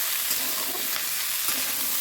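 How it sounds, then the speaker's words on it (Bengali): A vegetable curry with chillies, tomatoes and five-spice seeds fries in hot oil, giving a continuous, close, even sizzle with no talking. "পাঁচফোড়ন দিলাম, তেলটা গরম হওয়ার পরে এটা ছেড়ে দিলাম।"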